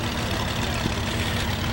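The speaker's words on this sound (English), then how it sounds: "That 2-cylinder with the offbeat sound is just something that you can always recognize." An old two-cylinder farm tractor engine, unrebuilt, runs steadily close by with a continuous loud, low rumble that sounds like idling.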